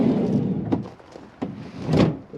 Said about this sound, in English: you've got your sliding cargo door